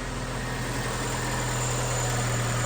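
A small Fiat 500 petrol engine idles steadily and close by, a constant even hum with no revving and no voices.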